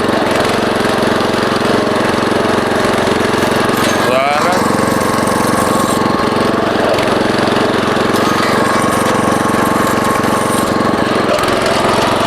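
A belt-driven walk-behind tractor engine runs continuously up close, a loud, rough, rapid chugging with rattling knocks throughout and no break in the sound.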